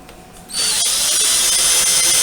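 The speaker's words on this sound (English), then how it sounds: "So I'm going to drill now." Handheld power drill with a mixing attachment stirring acrylic pouring paint, starting abruptly after a brief quiet moment and then whirring loudly and steadily, close by with no talk.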